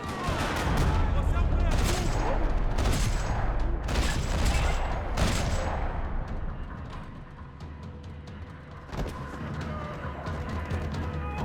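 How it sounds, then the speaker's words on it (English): Heavy gunfire rattles across a parking lot in the video game Max Payne 3, with dense overlapping bursts and sharp shots for most of the stretch, thinning toward the end; no voices stand out over it. "Another parking lot rattling with gunfire."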